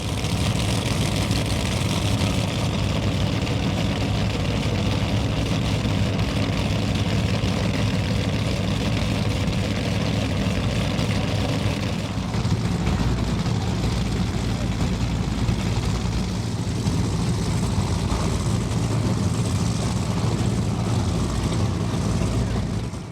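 Powerboat engines run at the 2023 Key West Poker Run, a loud, steady, deep roar that holds unbroken for the whole stretch and shifts slightly in tone midway.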